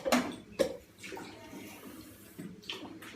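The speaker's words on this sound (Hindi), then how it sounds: "अभी थोड़ा पानी इसमें जाएगा।" Water poured into a cooking pot while making Sindhi curry, heard as a few short splashy bursts with softer trickling between them, close and moderately quiet, with no talking.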